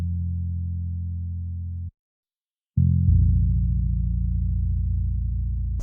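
A deep synthesized bass line in an FL Studio trap beat plays two sustained low notes separated by a short gap of silence, loud and alone.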